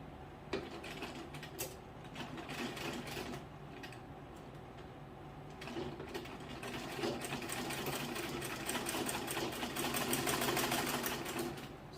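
A sewing machine stitches skirt fabric with lining in a soft, continuous whirring run with fine mechanical ticking. It pauses briefly and then picks up speed again, growing slightly louder toward the end, with no talking.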